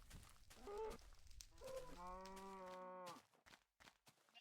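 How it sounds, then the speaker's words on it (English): A cow in the Minecraft video game lets out a clear, drawn-out moo while burning in a fire, a single harmonic call standing alone with brief crackly game noise around it. "that cow got caught in the fire"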